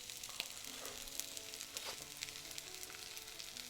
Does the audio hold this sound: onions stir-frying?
yes